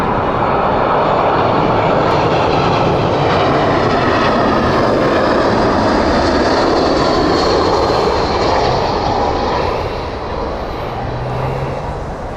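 A British Airways airliner arrives at Heathrow, a loud sustained jet roar with broad rumble that holds steady before easing slightly near the end, alone without talk.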